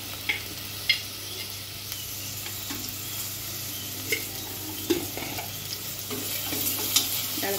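Salted onions sizzle steadily in a pan, a continuous frying hiss lasting several seconds, broken by soft, occasional stirring scrapes. No one speaks.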